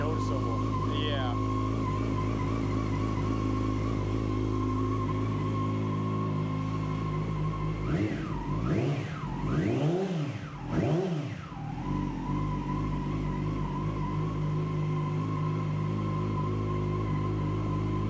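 A 2017 Yamaha YZF-R6 sportbike engine running steadily at idle with a low droning tone, rising in a couple of brief revs midway before settling back, while people talk nearby.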